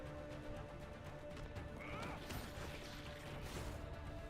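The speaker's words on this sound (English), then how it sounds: "You can ride horses, okay." Horse in a video game trailer gives a clear whinny midway, with clip-clopping hooves and mechanical clatter around it, moderately close amid busy game sound.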